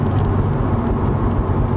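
A 2016 Subaru WRX engine drones steadily and loudly from inside the car during heel-toe downshifting, a continuous low rumble without clearly separated rev blips.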